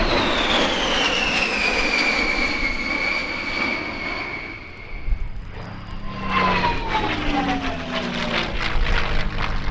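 Sally B, a B-17 bomber, flies past at the RAF Cosford airshow, its piston engines droning loudly with a falling Doppler whine as it passes close by, then a second sweep rising and fading, with no talking.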